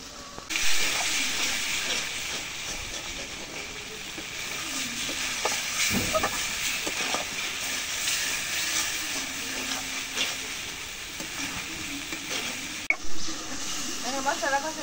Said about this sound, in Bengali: এখন মশলা একটু কষাই নিই।